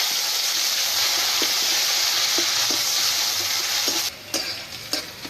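Chopped onion and cumin seeds frying in oil make a loud, dense, close sizzle throughout, with light utensil taps and a few stirring scrapes toward the end.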